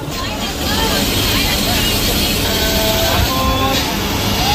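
A Katwa–Bardhaman local train runs after leaving Katwa junction, giving a loud, continuous rumble and rattle heard from inside a crowded carriage, with chatter mixed in.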